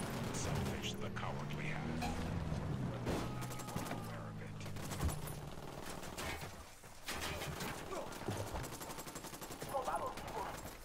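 Rapid bursts of gunfire and machine-gun fire in the tactical shooter Ghost Recon Wildlands ring out steadily under a voice and game ambience, with the shots loud and close.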